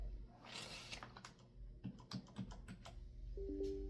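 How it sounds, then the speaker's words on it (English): Computer keyboard keys are pressed in a quick series of sharp clicks, a burst of taps near the middle, heard fairly close against quiet room noise with a low tone rising at the end. "Press escape on your keyboard."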